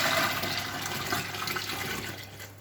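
Boiled peach mash sweetened with sugar pours into a fermentation bucket as a steady, rushing gush of liquid that tapers off slightly near the end, with no voices.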